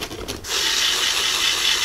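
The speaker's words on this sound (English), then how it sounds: "now I'm gonna spray into here" A short hiss of an aerosol can spraying PB Blaster penetrating oil, starting after a brief clatter and continuing steadily at close range.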